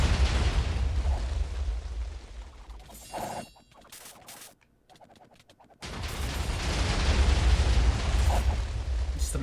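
Heavy explosions boom through a Minecraft 1.16.5 mob battle, a dense roaring wall of blasts that drops into a brief lull of scattered pops before another long rumbling barrage erupts.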